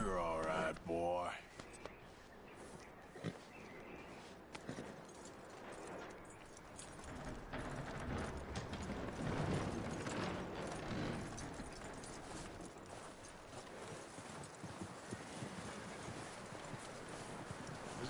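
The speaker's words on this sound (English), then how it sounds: "That looks like a decent horse." Horse hooves clip-clop steadily in a video game, a moderately close, rhythmic plodding that runs through most of the stretch beneath voices talking quietly over it.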